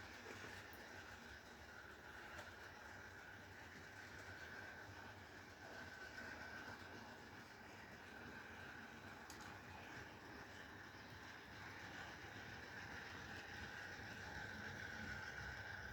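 A small model train runs quietly along its track, a faint, steady whirring and clicking hum with no voices.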